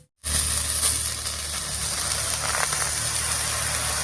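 Washed, cut pumpkin greens hit a hot wok and burst into a loud, continuous sizzle that starts abruptly after a moment of silence and stays dense and steady close by.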